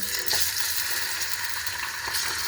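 Greens dropped into heated oil with onion and meat, sizzling and crackling steadily in a pan, close and continuous with no talking.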